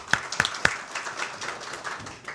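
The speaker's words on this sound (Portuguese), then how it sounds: "Peço até uma salva de palmas para o nosso aniversário" A round of birthday applause for a deputy in a committee meeting room, opening with a few sharp distinct claps and then settling into a brief, moderate patter of hands from a small group.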